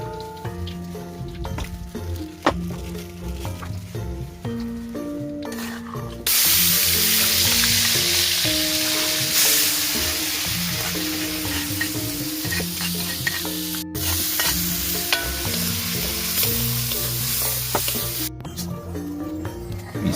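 Food frying in a pan for a cheap home-cooked meal for eight: brief stirring and clatter first, then a loud, steady sizzle that runs on with small knocks of a utensil. No voices are heard.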